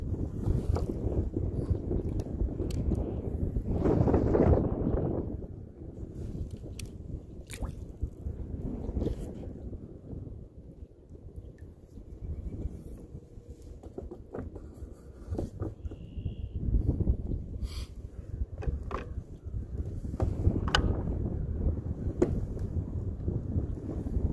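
Gusty wind buffets the microphone while kayaking on shallow water in Indiana in March, rising and falling in strong rumbling bursts with faint splashes and knocks from the boat, no talking.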